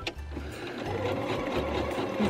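Pfaff Quilt Ambition 2.0 sewing machine stitching a box cushion seam, a close, steady motor whir with rapid needle chatter running continuously, briefly pausing and restarting, with no talk.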